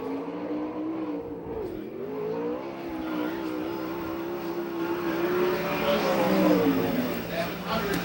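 A USAC/CRA sprint car on a qualifying lap at Perris Auto Speedway, its engine wailing with shifting pitch and building louder toward the end, with an announcer talking over it.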